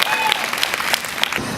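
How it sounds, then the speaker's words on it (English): Brief burst of audience applause at a yoga fitness event at Revel Motor Row, a close, dense patter of clapping lasting under two seconds. "Everybody give her a huge round of applause."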